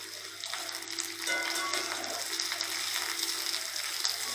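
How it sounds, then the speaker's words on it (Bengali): Cut potato pieces dropped into hot oil in a kadai, a quiet continuous sizzle and crackle with small pops throughout. "কেটে রাখা আলুর টুকরোগুলো আমি কড়াইতে দিয়ে দিলাম।"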